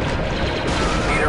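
Blaster fire in the Star Wars Republic Commando shooter, a dense, continuous wash of rapid shots and battle noise during a firefight against super battle droids, loud and close throughout.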